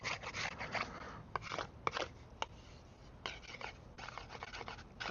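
A knife carving a long cedar bow drill spindle cut from a fence board, quiet scraping and shaving strokes in uneven bursts with a few sharp clicks, close and faint.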